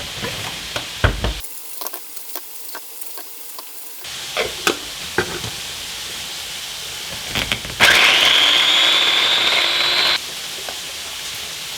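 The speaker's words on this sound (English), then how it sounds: "I'm gonna cut some onion up with this machine" A 33-year-old manual onion-cutting machine working through onion for a traditional Dutch endive dish, giving loud rhythmic clacks and chopping knocks that run in bursts with a harsh grinding stretch partway through.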